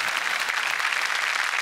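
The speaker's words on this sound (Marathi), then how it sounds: "जोरदार टाळ्या." An audience bursting into loud applause, dense rapid clapping from many hands, sustained and even across the whole stretch, close and full with no distinct voices.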